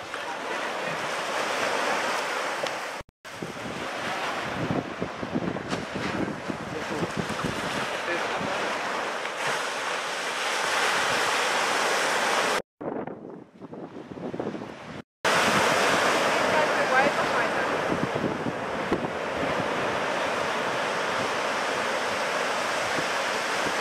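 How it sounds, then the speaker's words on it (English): Wind blows hard across ocean surf at a beach during a surf boat race, with steady roaring gusts and crashing waves, broken by brief dropouts of a buffeting microphone. "Oh, the wind."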